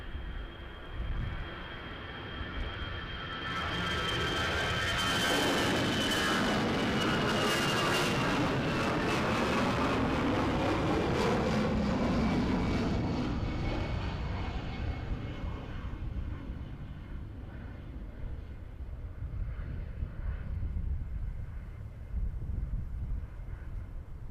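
An ATR 72 turboprop at Edinburgh Airport passes close by, its propeller whine and engine roar swelling loud with a falling pitch sweep, then fading away into distant rumble.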